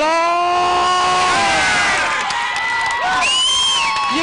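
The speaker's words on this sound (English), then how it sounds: "You can hear the crowd." A football stadium crowd roars and cheers in a continuous loud swell, with whoops and high shouts rising above it, at an elimination final at Stannard Stadium in Port Melbourne.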